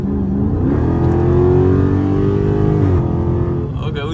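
A Dodge Charger SRT 392 accelerates hard, its loud close engine roar climbing steadily in pitch for several seconds before easing off.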